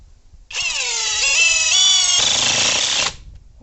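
An ENZT 600 Nm cordless impact wrench drives a screw into a chunk of log, a loud, close, steady rattling hammer lasting under three seconds, with the pitch shifting as the screw bites deeper.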